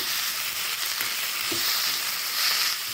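Greens being stirred and mixed in a hot pan for green dosa batter, a steady broadband sizzle and frying hiss with faint scraping stir sounds, close and continuous, no talking.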